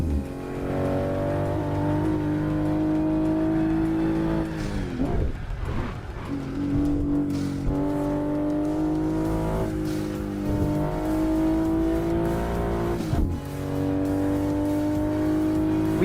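A race car engine screams through repeated upshifts with occasional tire squeal in a car simulator game, loud and continuous throughout.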